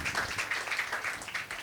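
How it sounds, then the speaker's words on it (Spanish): Audience applause fills a lecture hall at a project management talk, a dense, steady wash of many hands clapping at moderate loudness without a break. "yo creo que se merecen un fuerte aplauso"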